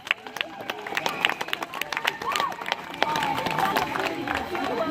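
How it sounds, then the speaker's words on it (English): An audience applauds a scout pack, scattered claps that swell into fuller clapping among crowd chatter and a few cheers. "Give a round of applause for Pack"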